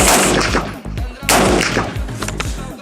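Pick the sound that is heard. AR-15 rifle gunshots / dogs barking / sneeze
AR-15 rifle gunshots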